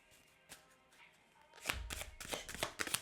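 Tarot cards are shuffled at a reading table: a few soft riffles at first, then a louder, close run of rapid flicking card slaps in quick bursts.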